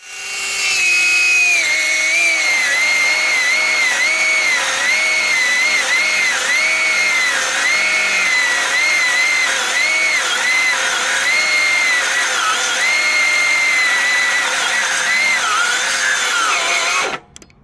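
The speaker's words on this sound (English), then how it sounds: "the circular saw is the perfect power tool for any construction worker" A Parkside Performance PPMSA 20-Li A1 cordless circular saw screams steadily through metal for a long stretch, its pitch dipping and wavering under load before cutting off abruptly.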